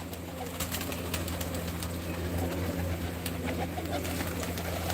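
Colourfully dyed pigeons in a fancier's loft coo faintly in low, rolling calls, with scattered sharp clicks and a steady low hum behind them.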